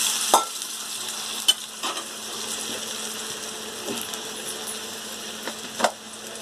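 Thick tamarind juice simmers and bubbles in a pan under a faint steady hiss, broken by a few sharp spoon-against-pan taps and scrapes spread through the stretch.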